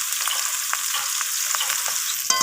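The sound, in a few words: rohu fish frying in oil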